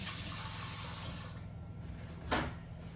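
Running tap water rinses hands at a kitchen sink, a steady close gush with a brief louder splash near the end, no voices.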